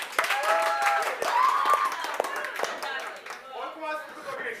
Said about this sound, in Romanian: Un rând de aplauze